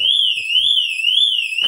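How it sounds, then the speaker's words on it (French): Factory volumetric alarm on a VW Sharan 7N2 sounds: a loud, piercing electronic tone warbling up and down steadily for well over a second, close by, with faint background movement and no speech. "Je vais vous montrer donc l'alarme volumétrique qui est en haut là-bas."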